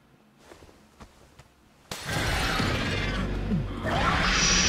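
A sudden sharp crash of glass shattering in a tense video game, followed by a loud sustained rush of breaking and debris after several faint knocks.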